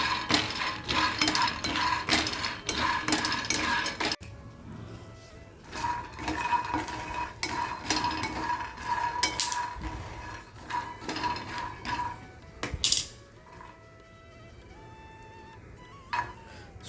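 Roasted peanuts stirred in a pan for peanut chikki, a busy rattling and scraping of nuts and utensil against metal, close and continuous, thinning to sparser clatters toward the end.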